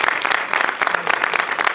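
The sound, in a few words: audience applause for Vero from makeup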